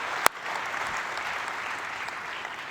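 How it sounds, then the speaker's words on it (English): Audience applause at a Sony press conference at CES 2015, a sharp initial clap followed by steady, moderately loud clapping throughout. "Go ahead, you can applaud."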